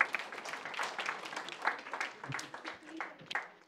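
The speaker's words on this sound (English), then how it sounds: "Give them a round of applause" A workshop audience gives a round of applause, a modest group clapping unevenly for a few seconds, fairly near, with some voices mixed in among the hand claps.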